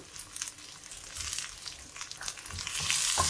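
Kashmiri chilli powder is stirred into frying onions, making a soft, uneven sizzle with intermittent scraping bursts that grows louder toward the end.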